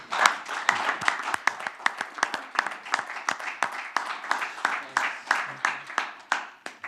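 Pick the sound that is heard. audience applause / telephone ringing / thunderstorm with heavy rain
audience applause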